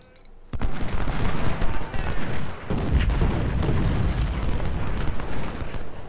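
Rifle skirmishers firing in a Ultimate General: Civil War battle, a dense, continuous crackle of gunfire with heavy low rumble that starts abruptly after a brief quiet moment and rolls on steadily with no pause.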